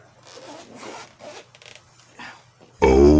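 The zipper of a DJI Osmo gimbal bag is pulled open in several short, scratchy strokes close up, followed by a sudden loud burst at the end.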